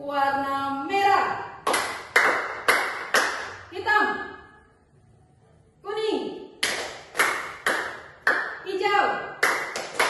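Children clap in rhythmic bursts during a colour clapping game in a classroom. Sharp claps land in patterned groups over chanted and sung words from a teacher and the children, with a short quiet pause midway.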